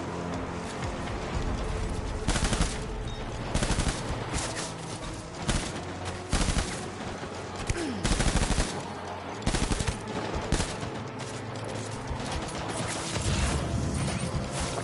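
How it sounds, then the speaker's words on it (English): Rapid automatic gunfire from the PS5 game Death Stranding rattles in repeated loud bursts with short pauses between, over a constant rumbling game background. "Where's the guy that's shooting us?"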